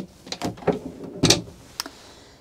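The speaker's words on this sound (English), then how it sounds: "On this side, next to the shower, we've got three fabulous drawers" Drawers in the washroom of a new 2024 Carthago S Plus I 61 XL LE motorhome opening and closing, several quick sliding thumps and knocks close by, with no talk.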